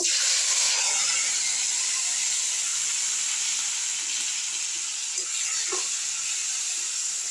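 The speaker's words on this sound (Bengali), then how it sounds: "এবার আমি পেঁয়াজ আর রসুনের পেস্ট আমি কড়ার মধ্যে দিয়ে দেবো" Onion and garlic paste sizzles in a kadai, making a continuous bright hiss of frying with faint crackles and a couple of soft stirring taps, and no talk.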